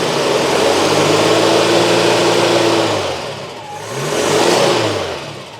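The engine of a Citroen GSA, running in for an alternator charging check, revs up and holds a loud steady whine, drops back toward idle, then revs once more before falling away. It is close and no one speaks.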